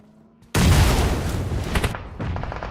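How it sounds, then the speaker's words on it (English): Grenade explosions in the battle-royale game PUBG Mobile during a tournament match. A loud, close boom erupts suddenly and rumbles with debris for about a second and a half, then a second blast follows right behind it. "Back-to-back grenades"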